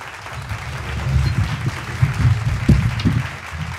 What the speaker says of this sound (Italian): applauso per Topolino